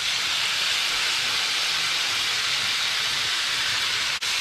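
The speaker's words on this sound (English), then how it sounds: "We'll give them a stir up and just keep gently sauteing" Green olives, red chilies, garlic and sliced tomatoes sauté gently in a pan, giving a steady, even hiss that runs without break and cuts out abruptly just before the end.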